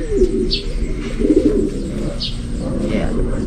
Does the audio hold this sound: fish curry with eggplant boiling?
no